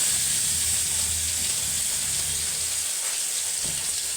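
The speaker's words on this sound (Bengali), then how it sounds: "মাছ যখন ভাজি করবেন, দেখেন তেলটা গরম করে নেবেন" Fish frying in hot oil in a home kitchen, a steady close sizzle with a bright hissing wash and low crackle underneath, no talking.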